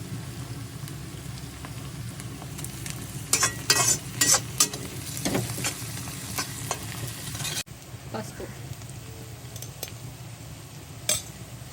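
Garlic paste sizzles in hot oil for chicken fried rice, a steady moderate frying hiss broken by sharp spatula scrapes and clinks, with a brief pause partway through.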